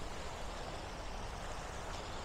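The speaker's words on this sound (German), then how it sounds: "Die Wellen machen ein sehr schönes und beruhigendes Geräusch." Sea waves break steadily on a beach, a continuous broadband wash of surf that stays close and fairly loud throughout, with no voices over it.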